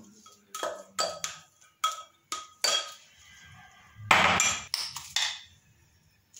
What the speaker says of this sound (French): Maintenant, je vais mélanger le tout.